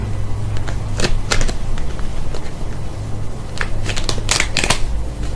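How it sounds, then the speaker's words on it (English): Rapid riffling of playing cards, several quick bursts of crisp fluttering snaps over a low steady hum, close and fairly loud. "they need you to shuffle the cards exactly like this"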